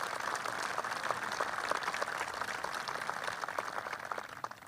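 A Memorial Day crowd at the Vietnam Veterans Memorial Wall claps for Chuck Hagel, a steady, moderately loud outdoor applause with scattered individual claps.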